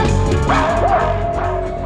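A dog barks and yelps close by against a steady background hum, a few sharp calls with a rising whine in the middle.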